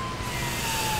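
Fire truck siren in the video game Driver San Francisco, a steady wailing tone that holds throughout, loud and continuous over an engine-like rumble.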